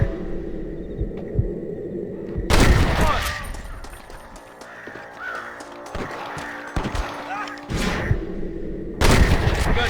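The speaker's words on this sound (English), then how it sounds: "Gunshots!" Gunfire in the Western video game Red Dead Redemption, loud bursts of shots and booms erupting after a quieter stretch and returning near the end, with game music and effects between.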